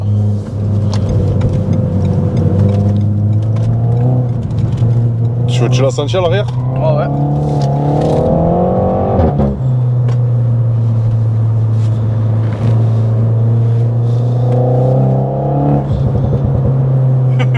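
Renault Mégane 4 RS with a half-line aftermarket exhaust, its engine droning steadily close by and rising and falling with throttle, with a pop from the exhaust around the middle; people talk over it throughout.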